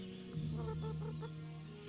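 A chicken in Kingdom Come clucks in a short, quiet series of choppy calls over a low steady hum, ending in a brief thump.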